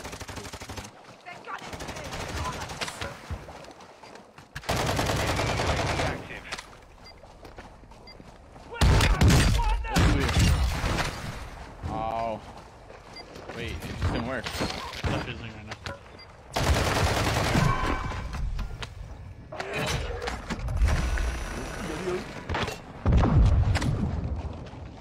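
Bursts of gunfire in a shooter game, loud rapid volleys and heavy thumps recurring through the clip, with players talking over the shots.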